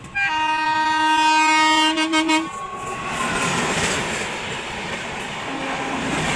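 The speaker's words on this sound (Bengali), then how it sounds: "উঠতেই ট্রেনটি ছেড়ে দিল।" Passenger train pulling out of a station in India, a loud sustained horn blast for about two seconds close by, then rumbling wheels and rail noise as it gets under way, with a brief second horn note near the end.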